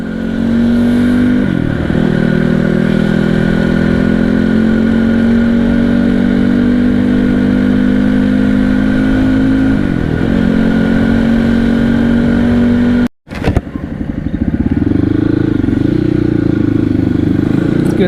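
A motorcycle rides along the mountain road to Kalinchowk, its engine a steady, close mid-pitched drone with slight rises and falls. It cuts out sharply for a moment near the end, then picks back up.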